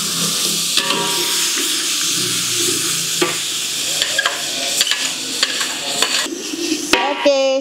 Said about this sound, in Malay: Sekarang kita masukkan bawang putih.